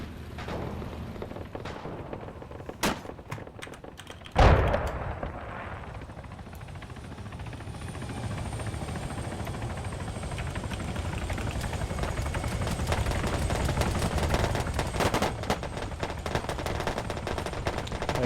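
Gunfire in the military video game Arma 3, aimed at a Panther vehicle: a sharp burst near the start, then a continuous rumbling wash of shots and engine-like noise under a steady mechanical drone.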